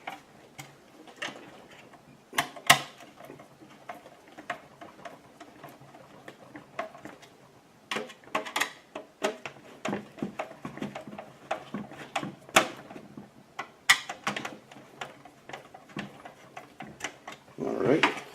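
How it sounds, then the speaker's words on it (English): Screws are tightened by hand with a screwdriver while a PC is assembled, with irregular small clicks and ticks scattered over quiet stretches, near and light. "All right, let me get these tightened down here."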